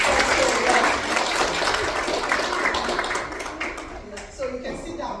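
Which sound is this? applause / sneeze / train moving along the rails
applause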